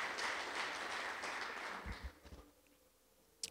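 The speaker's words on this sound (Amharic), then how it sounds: "አጨብጭቡ ለጌታ ክብር" A church congregation claps in praise of the Lord, a faint spread of applause that holds for about two seconds and then fades away into near quiet.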